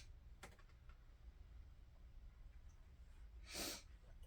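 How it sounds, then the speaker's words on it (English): A single short, faint sneeze bursts out near the end, preceded by a soft click or sniff in an otherwise quiet room. "I think I have to sneeze."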